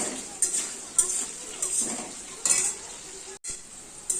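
Spices with turmeric frying in a pan, a close, steady sizzle with repeated scraping and clinking strokes of a spoon against the pan.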